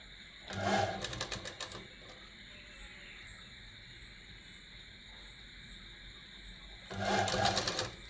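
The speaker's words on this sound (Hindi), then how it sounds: "ये दामन के ऊपर से हम एक सिलाई लगा रहे हैं।" Sewing machine stitching along the hem of a gents' kurta, two short bursts of rapid needle whirring close by separated by a quiet pause.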